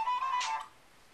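A mobile phone left behind rings once, a short bright electronic tone sounding alone in a quiet room.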